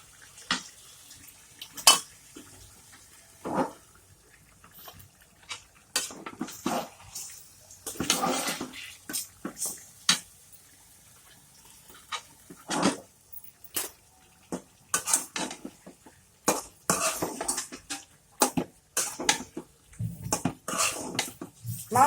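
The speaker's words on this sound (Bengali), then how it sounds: "মাংসটা একটু নেড়ে চেড়ে দিই।" Beef is stirred in a cooking pot, with a ladle clanking and scraping against the metal in irregular bursts and short pauses, close by and fairly loud.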